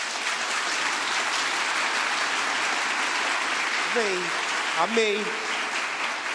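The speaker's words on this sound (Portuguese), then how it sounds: "dê uma salva de palmas a Deus." A church congregation bursts into sustained, dense applause during a Catholic charismatic service, loud and steady throughout, with a brief spoken response rising over the clapping near the end.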